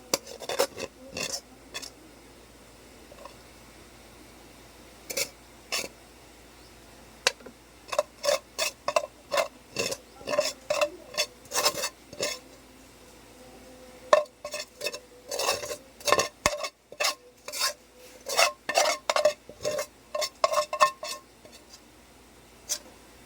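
A ladle scrapes fried rice from a pan onto a plate in bursts of sharp metallic scrapes and taps, close and irregular, with pauses in between.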